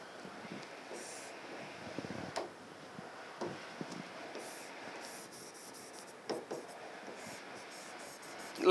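A pen drawing chemical bond diagrams on paper, faint scratchy strokes and small taps scattered across several seconds, close to the microphone under a light background hiss.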